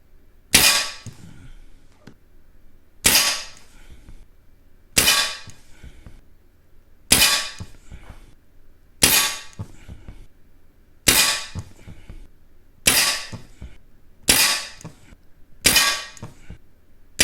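Artémis CP2 air pistol firing at a 10 m target, with nine sharp, loud shots at even intervals of about two seconds and short decays between them, and no talking.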